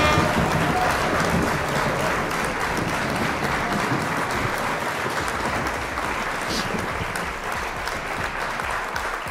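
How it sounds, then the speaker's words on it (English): Steady, dense applause from an audience at a PlayStation games reveal event, continuous broadband clapping that holds at an even level for the whole stretch with no voices standing out. "Come on, round of applause."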